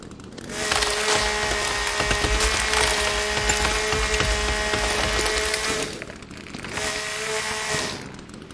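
In The Forest video game, a chainsaw bites into wood with a loud sustained buzzing whine, cutting out briefly, then revving and cutting again before fading.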